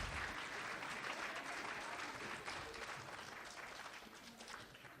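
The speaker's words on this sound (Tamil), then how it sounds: "பலத்த கரகோஷங்களுடன் மாணவர்களை ஊக்குவிக்குமாறு கேட்டுக்கொள்கிறோம்." Applause for students at the KTS Pongal Vizha 2025 celebration, a broad steady wash of clapping from an audience that holds throughout and tapers slightly toward the end.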